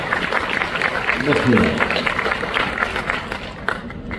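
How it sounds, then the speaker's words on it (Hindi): A dense wash of audience applause fills a Hindi humorous poetry gathering, many hands clapping together without pause, loud and continuous, with crowd noise mixed in. "अब एक बार विधिवत ताली बजाकर मुझे बता दें कि आप सुनना चाहते हैं।"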